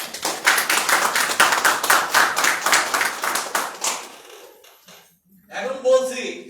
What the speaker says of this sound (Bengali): আপনাদের জন্য জোরে একটা করতালি দেন